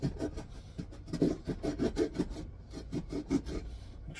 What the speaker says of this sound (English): we're sawing again.